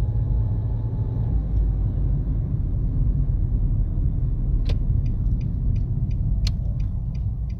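A car driving during a driving lesson gives a continuous low road rumble, and a series of faint, regular ticking clicks, like an indicator, comes in over the second half.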